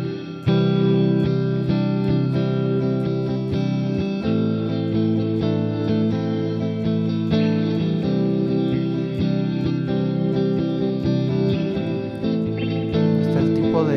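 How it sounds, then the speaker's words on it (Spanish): An electric guitar played through a Boss Katana amplifier with spring reverb rings out in sustained, lightly strummed chords with a washy, echoing tail, steady and close with no talking. "Reverb Spring, mira, que es como los que traen los amplis Fender"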